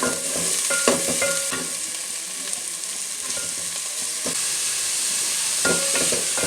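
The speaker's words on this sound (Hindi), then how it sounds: "तो अब मैं इसको इसमें फ्राई करने लगी हूँ सब्जियाँ। पहले शिमला मिर्च और गाजर को ही फ्राई करूँगी।" Capsicum and carrot frying in ghee for a hot and sour chicken soup, giving a steady close sizzle with a few sharp stirring scrapes and clicks near the start and end, and no voices.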